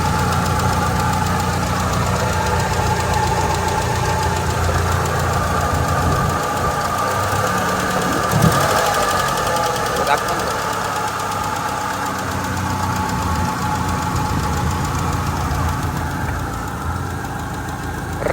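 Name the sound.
car engine started and running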